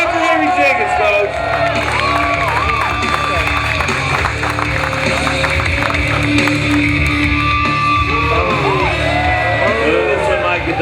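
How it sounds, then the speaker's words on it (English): An outdoor crowd at a disc golf clinic claps and cheers steadily, with scattered shouts and voices mixed through a dense, continuous wash of noise. "Let's get some chanting or some clapping or something."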